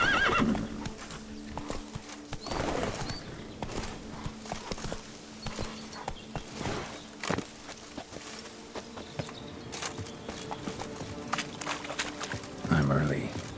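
The horse Roach in the Witcher video game walks with steady clip-clopping hooves and whinnies, over a buzzing insect ambience, while a voice speaks over the scene.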